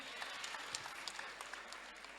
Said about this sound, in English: Clap for her too.